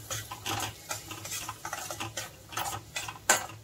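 Utensil scraping and stirring chana palak paneer masala in a pan, with irregular clinks and scrapes of a spoon against the metal, close and moderately loud, no voices.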